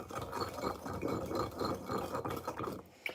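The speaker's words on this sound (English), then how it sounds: "I'm in the background stirring away at these mugs." Spoon stirring salt or sugar into water in mugs, a repeated rhythmic scraping and rubbing close by, steady and moderately loud, ending with a light clink.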